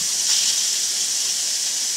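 Steady high hiss of steam escaping from the relief valve on a Weeden toy steam engine boiler, continuous and fairly loud for the whole stretch with no voices.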